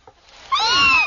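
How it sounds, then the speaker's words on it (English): A kitten gives one loud, close meow that rises and then holds briefly, with no voices. "What is it, not gulls? Kittens."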